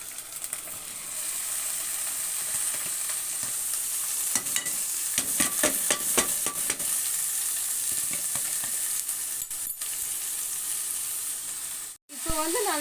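Onion, cabbage, beans and grated ginger sauté in a hot pan with a steady, close sizzle, broken by a run of scraping stirs midway and a short pause near the end.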